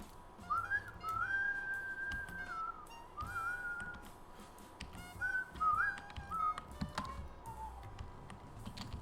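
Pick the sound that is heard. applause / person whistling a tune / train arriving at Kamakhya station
person whistling a tune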